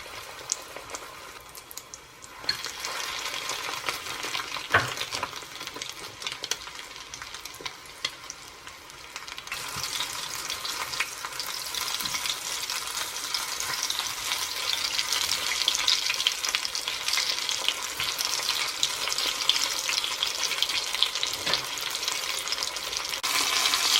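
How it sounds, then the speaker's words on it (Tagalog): Chicken nuggets coated in egg and crushed chips fry in cooking oil over medium heat, giving a steady, loud crackling sizzle that swells and broadens after the first few seconds and carries on without pause. "if the cooking oil is ready, start to fry it in a medium heat for 3 minutes"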